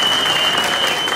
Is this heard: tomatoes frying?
no